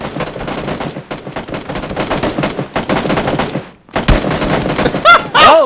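Rapid bursts of automatic gunfire from the battle royale game PUBG, loud and close, firing in repeated volleys with brief pauses and a few sharper single shots near the end.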